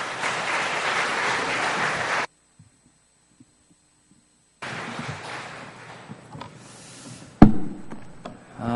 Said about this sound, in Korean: 나오실 때 큰 박수로 맞으시면 감사하겠습니다